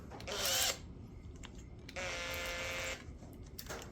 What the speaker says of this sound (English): I get my drill, and I'll put it in my drill